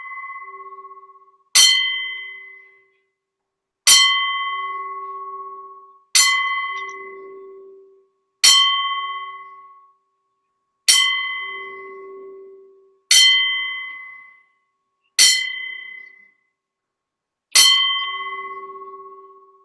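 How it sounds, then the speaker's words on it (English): A bell rings in a slow, evenly spaced salute, eight clear strikes each ringing out and fading before the next, alone with no talk. "we'll give him a 10-bell salute here on the small package"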